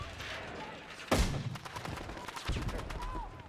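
Enemy mortar fire in the Battlefield 6 video game, a heavy blast landing around the one-second mark followed by scattered gunfire and a second thud, all over a steady din of battle.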